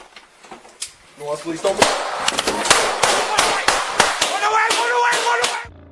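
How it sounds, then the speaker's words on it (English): A police officer fires a gun during a tense encounter, a rapid series of sharp cracks scattered over several seconds, heard close and loud amid shouting voices. "leading one officer to discharge their weapon in response to the threat"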